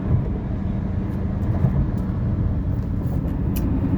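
A 1995 Mercedes E300 cruises along a road toward the highway, giving a steady low rumble of engine and tyre noise from inside the cabin that stays even throughout, with no speech.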